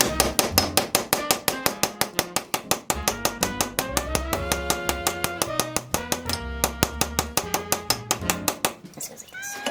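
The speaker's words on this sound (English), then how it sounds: "Go get a ball peen hammer." A ball peen hammer strikes metal repeatedly during a rear wheel bearing repair on a 2008 Kia Sportage. The blows come fast and steady, dozens in quick succession, each with a bright ringing clang, before they stop near the end.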